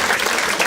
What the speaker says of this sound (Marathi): टाळ्या वाजवा एकदा याच्यासाठी